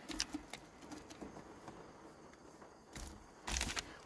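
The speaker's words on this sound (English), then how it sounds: "Another rainy night in Northern Ireland." Rain patters on the roof of a tiny car parked at night in Northern Ireland, a steady light tapping with a few louder bursts of heavier drops near the end.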